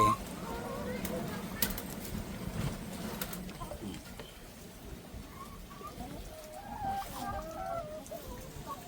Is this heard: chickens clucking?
yes